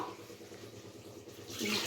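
Water is poured from a glass over rice for cooking masala tomato bath, a soft, quiet trickle that swells into a brief louder splash at the end.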